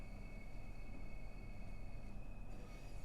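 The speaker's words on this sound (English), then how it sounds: "that is a train coming out the side." Javelin high-speed train passing in the Train Sim World 3 simulation on the Ashford to St Pancras line, a continuous low rumble of wheels on rail with a thin steady whine on top.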